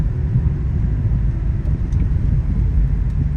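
A car's engine drones in a low steady rumble while it overtakes another vehicle on a road between Kokan and Mumbai, loud and continuous with faint road noise and no speech.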